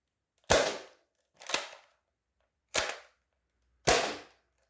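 Four separate sharp shots from an X-Shot Meteor foam dart blaster, each a loud snapping pop with a short decay, spaced about a second apart and heard alone.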